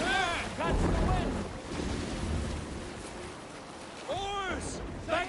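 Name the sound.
Viking longship sailing in wind, from video game Assassin's Creed Valhalla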